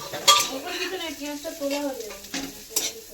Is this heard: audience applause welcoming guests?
no